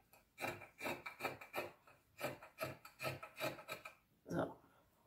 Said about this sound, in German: Ich schneide mir jetzt die Franzen erstmal ab